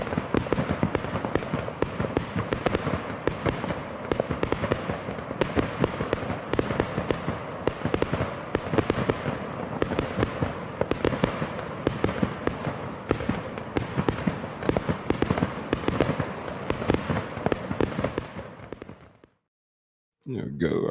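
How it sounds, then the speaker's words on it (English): Fireworks sound effect played as a grand finale at the close of an open panel reading: a dense, continuous barrage of crackling bursts and pops for about nineteen seconds, then a sudden brief silence and a short resumption. "hit that fireworks real quick"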